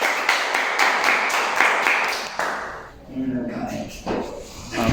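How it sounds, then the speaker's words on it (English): A few people clap in a loose, uneven rhythm for a couple of seconds, then it fades as voices take over. "Applause for Sven."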